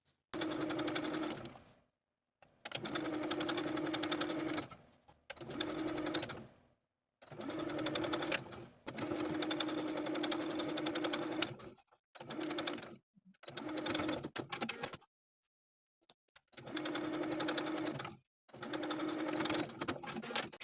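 A sewing machine understitching the facing of a spring dress near a V neckline, running in many short, steady bursts broken by brief silent stops, close and clear.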